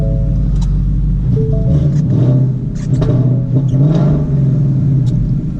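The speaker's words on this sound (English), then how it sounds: "Let's fire it up real quick so you can hear it a little bit." A 2015 Ford Mustang engine fires up with a raspy cold start, then a loud close rumble that settles into a steady idle with slight rev swells, no one talking.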